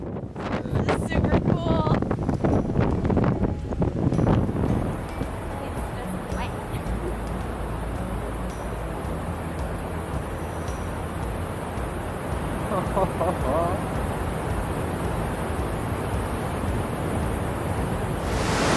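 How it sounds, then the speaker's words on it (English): Strong wind buffets the microphone as ocean surf rolls in along the rugged coast at Smoo Cave on Scotland's north coast, a steady loud roar throughout, with a person talking over it during the first few seconds. "also incredibly windy. I'm not sure if we'll be able to get into it or see it or what because of the waves"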